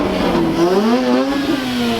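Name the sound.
Mazda RX-8 rotary engine revving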